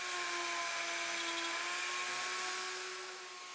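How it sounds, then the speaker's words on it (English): A plunge router guided by a Leigh D Series jig with an M2 mortise and tenon attachment screams at high pitch while cutting mortises, steady and close, easing slightly near the end. "The plunge router makes quick and easy work of routing the mortises"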